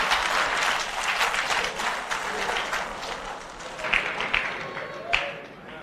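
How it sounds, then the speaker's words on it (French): An audience at a church gathering in Pretoria, South Africa, applauds continuously, a dense wash of many hands clapping with a few louder individual claps near the end and faint crowd voices underneath. "puis tu applaudis pour cette personne, pour célébrer ce moment"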